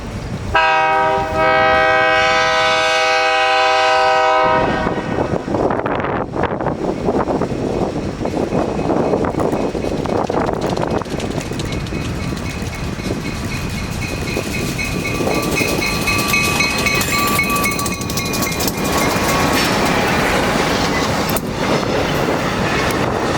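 A rail enthusiast excursion train on weedy, rusted track between Port Allegany and Driftwood, Pennsylvania, rolls past a grocery store lot: a loud horn blast first, then a long, steady rumble and clatter of passing cars continuing to the end.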